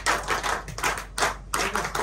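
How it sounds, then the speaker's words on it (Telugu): Group of people clapping hands together on command, a brisk, dense round of applause with several surges of louder clapping and brief dips between them. "Claps claps claps."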